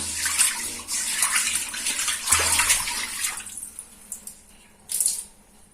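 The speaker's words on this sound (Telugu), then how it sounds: "నేను కొన్ని వాటర్ పోస్తున్నాను." Water poured from a container to rinse a bathroom floor during a deep clean with phenyl and toilet cleaner: loud, close splashing and gushing for about three seconds, then quieter trickles and drips, ending with one more short splash.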